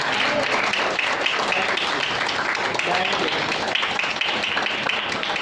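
A church congregation claps together, a steady wash of applause with voices mixed in beneath it, moderately loud and continuous for several seconds.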